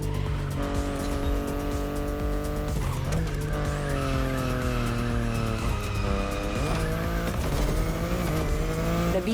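A BMW i8 in the racing game The Crew Motorfest drives hard, its engine droning loudly and steadily while tires squeal and skid through repeated slides, with no voices.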